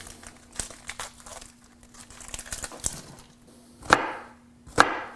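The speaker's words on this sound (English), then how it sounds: "That's got a bad spot, so peel another layer." Dry papery crinkling and crackling as an outer layer is peeled off an onion being prepared for spicy roasted potatoes, close and intermittent, ending in two sharper snapping tears.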